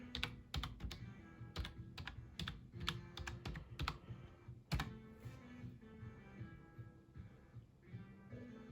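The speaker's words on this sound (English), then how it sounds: "go ahead and connect it so you can into the USB port so you can type your Wi-Fi password." A Wi-Fi password is typed on a USB keyboard in quiet, close-up keystrokes. The taps come in irregular bursts, with a few louder clacks among them and short pauses between groups.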